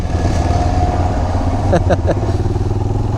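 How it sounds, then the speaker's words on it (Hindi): A motorcycle engine runs steadily close by as the bike is ridden down a slope onto riverbank sand by the Chenab River, with a low continuous drone and a few brief clattering bumps partway through. "और इधर से नीचे उतार लेते हैं बाइक, बस स्लिप ना हो जाए"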